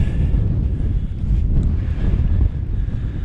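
Wind buffeting the microphone while mountain biking in the Pentland Hills, a loud, rough, constant roar dominating the low end with no talk.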